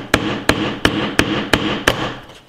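Six sharp, evenly spaced hammer blows drive a nail into soft pine wood, struck with an Oukitel K6000 smartphone used as the hammer; each impact rings out loud and close, with no voices.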